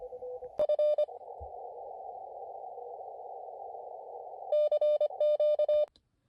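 Morse code sidetone from an Elecraft KX2 ham radio on 10 meters, steady tones keyed in short bursts over a continuous band hiss, loud and close with no voices.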